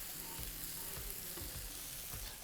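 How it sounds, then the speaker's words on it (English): Onion and peppers frying in a pan for a sweet and sour tofu dish, a steady close sizzle with a few soft stirring knocks and pushes, no talking. "We need to add onion and pepper and cook for about 5 more minutes until it's really softened down."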